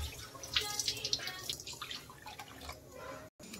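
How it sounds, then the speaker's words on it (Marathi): Sliced potatoes are being rinsed in a kitchen with running tap water, which splashes and trickles steadily at close range with small irregular drips and sloshes throughout. "आता याला आपण 2-3 पाण्याने चांगलं धुवून घेऊया"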